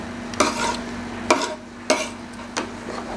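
Chicken biryani being mixed in a pot, four distinct scraping strokes of a spoon against the metal roughly every half second to second, close and clear, with a low steady hum underneath and no talking.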